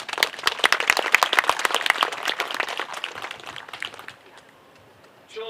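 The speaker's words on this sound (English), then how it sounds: "Please give them another round of applause." An audience at a live-streamed community event applauds, a dense burst of clapping that thins out and fades after about four seconds.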